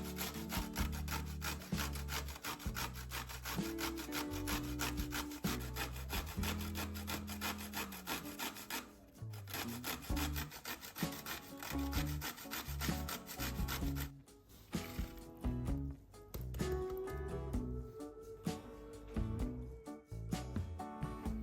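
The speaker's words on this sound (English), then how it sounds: "Finally, grate 5 small pickled cucumbers." Small pickled cucumbers rubbed against a grater, a steady rapid rasping scrape with brief pauses between strokes, close-up and continuous.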